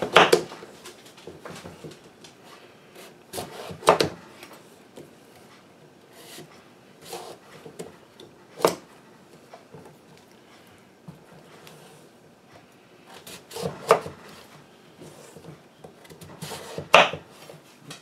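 Heirloom squash being cut up with a knife for canning, heard as scattered sharp chopping thuds and scraping, with clustered knocks spread over a quieter kitchen background.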